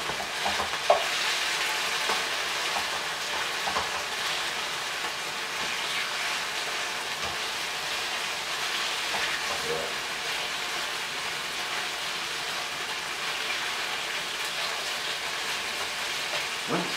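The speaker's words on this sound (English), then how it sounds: "Sizzle and keep working." Steady, close sizzling of Thai chicken stir-fry frying in a pan, a continuous crackling hiss with occasional soft scrapes of stirring.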